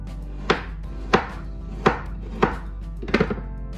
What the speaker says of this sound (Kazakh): Енді етімізді турап аламыз.